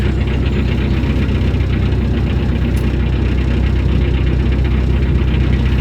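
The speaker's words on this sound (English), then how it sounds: "there's a boat coming around the bend up ahead" A steady low canal boat engine drone near Anderton with a rhythmic chugging knock, continuous and fairly loud throughout, as the boat approaches around a bend.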